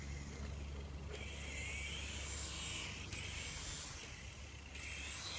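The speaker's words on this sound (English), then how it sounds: "My brother is attempting to hover the helicopter." A remote control helicopter hovers with a steady, fairly loud whirring buzz that rises and falls in intensity over a few seconds, with no one speaking.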